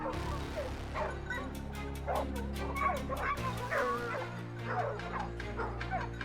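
A hunting dog chasing a wild boar on a hillside barks and yips in rapid repeated bursts, loud and close, with whimpering yelps between barks over a low steady rumble.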